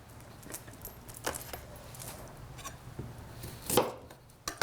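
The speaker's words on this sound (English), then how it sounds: "I'm going to cut the edge off of the carrot" A knife chops through a carrot on a cutting board, a few scattered close thuds with one sharper cut near the end.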